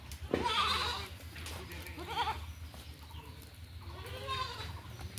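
Goats at a seller's farm bleat several times in quick succession, fairly close, with a low rumble of background noise underneath.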